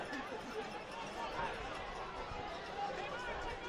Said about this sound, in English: Crowd still upset with that call. As you can hear the grumbles